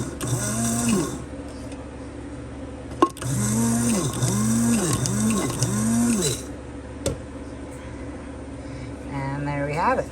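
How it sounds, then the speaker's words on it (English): A Ninja bullet spice grinder pulverizes dried homegrown Sandia Hatch chiles into powder, its motor whining up and down in several loud, close pulses before cutting out, with a brief shorter burst near the end. "I bring it, the Ninja bullet over, and I put it in the spice grinder."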